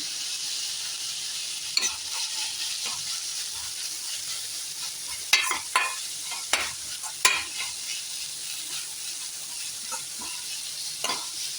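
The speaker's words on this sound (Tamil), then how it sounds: "நான் முட்டைக்கோஸ் போட்டிருக்கேன், நல்லா பொடியாக கட் பண்ணி முட்டைக்கோஸ் போட்டிருக்கேன்." Finely chopped cabbage is stir-fried in a pan, a steady hissing sizzle with occasional sharp scrapes and clinks of the spatula against the pan, close and without speech.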